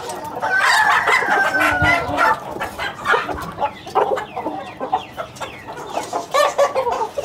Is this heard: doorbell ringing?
no